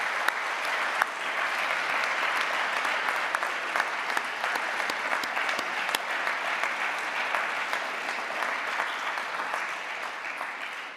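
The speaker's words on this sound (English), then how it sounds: "So can I invite the graduates to applaud your family and friends for everything they've done for you." Graduates at a Liverpool University medicine graduation ceremony applaud steadily in a large hall, a dense, even wash of many hands clapping that holds throughout before easing slightly at the close.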